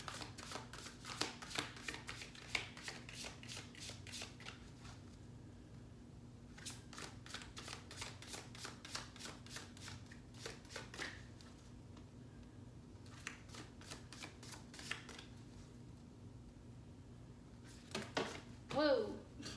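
Tarot cards are shuffled in repeated bursts of quick, crisp riffling flicks, close by and recurring several times with short pauses, while faint talk runs underneath.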